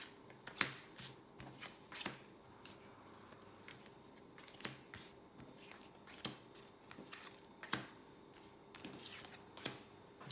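Tarot cards being shuffled by hand at close range, with a steady run of sharp riffling flutters and soft snaps repeating across the whole stretch, and no talk over it.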